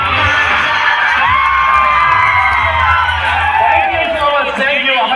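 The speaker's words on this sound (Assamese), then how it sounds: "প্ৰথমবাৰ নিজৰ বাবে হাত চাপৰি আৰু চিঞৰ এটা।" A loud crowd at a magic show cheers and shouts with whoops and children's yells, a dense, steady roar that holds for several seconds.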